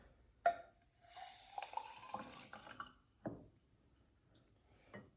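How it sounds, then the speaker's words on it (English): Water being mixed in a cup for a kidney simulation: a few soft splashes and sloshing stirs with a light tap, quiet and close, separated by pauses. "Then I'm mixing my cup of water"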